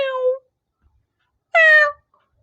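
A person's voice imitates a cat's meow, two short, clear mewing calls separated by a pause, close and loud in a quiet room.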